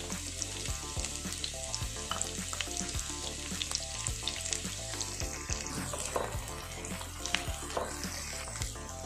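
Four sliced onions and four green chillies fry in mustard oil in a pan, with a loud, continuous crackling sizzle and occasional sharper pops and stirring scrapes throughout.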